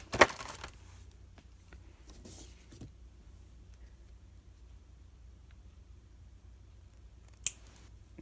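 Wire cutters (nippers) snip through a metal jump ring during a craft session, giving a sharp click near the start and another near the end, with quiet handling in between.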